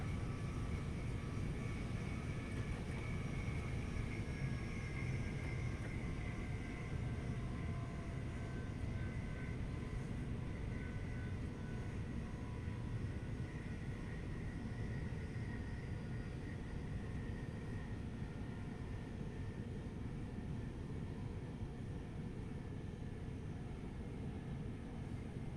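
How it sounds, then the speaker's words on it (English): An aeroplane passes overhead with a steady, broad engine roar in Train Sim World 2's London commuter Gatwick Express route, a continuous faint rumble lasting the whole stretch without talk. "The aeroplanes are new as well."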